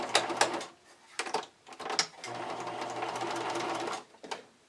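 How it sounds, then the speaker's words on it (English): A domestic sewing machine runs a zigzag stitch on elastic, with short stuttering bursts of rapid needle clatter followed by a steady two-second run, close and moderately loud. "So I'm switching my sewing machine to a zigzag stitch."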